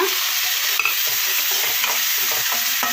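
Chopped onion and tomato sizzle steadily in a hot pan while a utensil scrapes and stirs them now and then, close up and fairly loud.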